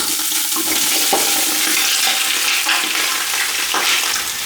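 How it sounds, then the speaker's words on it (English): Oxtail and lamb pieces frying in olive oil in a preheated pot for a Cantonese-style stew, giving a steady, loud broadband sizzle throughout with brief crackling bursts and stirring scrapes, with no voices. "Let's add in some olive oil. Good amount. And let's dump in our meats."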